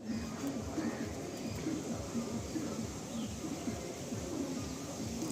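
Madrasi pigeons cooing in a steady, low murmuring chorus close by, with soft overlapping coos repeating throughout over a constant background hiss.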